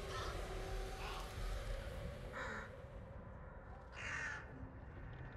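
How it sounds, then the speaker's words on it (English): Triggered crows caw from a flock of birds in the video game Hunt: Showdown, several separate harsh calls at a moderate distance over a constant rumbling ambient bed. "Oh, let's not trigger the birds."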